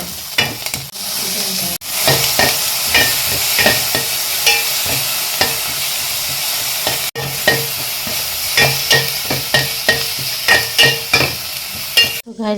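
Onions, curry leaves and tomato fry loudly in hot oil for tempering, a dense close sizzle with repeated scraping stirs and occasional clinks of a spoon against the pan.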